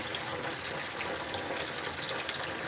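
Water streams from a tap in a steady, splashing flow, collected for wet sanding, heard alone and fairly close without any talk.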